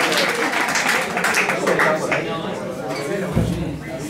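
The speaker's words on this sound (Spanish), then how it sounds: "Un fuerte aplauso para." Audience applause at an acoustic show at El Espiral, a burst of clapping and crowd noise that gradually thins, with talk and chatter mixed in and a low thump near the end.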